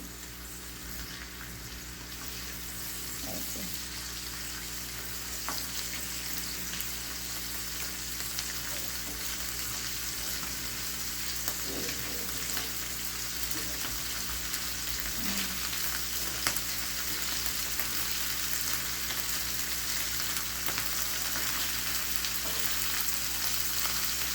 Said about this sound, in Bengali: এইভাবে করে এপিট ওপিট করে ভেজে নেব